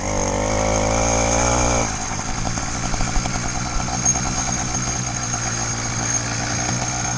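A motorized bicycle's small engine revs hard at high RPM, loud and close, with a steady harmonic whine that drops after a couple of seconds into a rough, rattling idle-to-mid rev.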